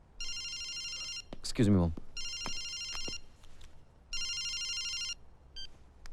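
A telephone rings in repeated bursts, three long electronic trills separated by short gaps, fairly close, with a brief spoken interjection between the first and second rings.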